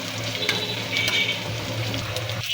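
Chopped onions and garlic frying in a pan, a soft continuous sizzle with light stirring clinks, close and moderate, with no talk.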